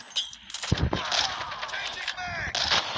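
Gunfire in a Call of Duty sniper match, sharp game shots and impacts crackling over a busy bed of game effects, with a player talking throughout.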